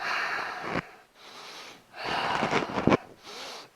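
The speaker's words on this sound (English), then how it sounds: "Big exhale." A big, forceful exhale during an at-home couch fitness breathing exercise, two long breathy rushes of air close to the mic, the second ending in a sharp snort-like burst.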